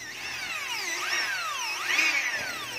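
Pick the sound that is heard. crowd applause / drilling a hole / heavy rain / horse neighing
drilling a hole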